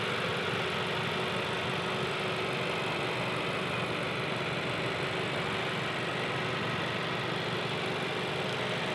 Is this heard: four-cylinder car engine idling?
yes